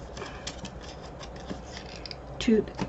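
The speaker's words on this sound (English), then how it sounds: "let's cut that piece there to" Scissors cutting a paper piece for a scrapbook craft project, a soft close snipping and scraping rustle, a little louder near the end.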